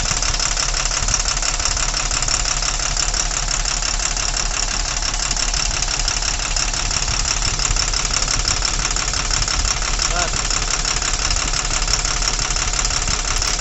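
BS4 diesel engine with a knocking fault runs with its fourth injector opened, a loud, steady idle with rapid even knocking close by and no talk.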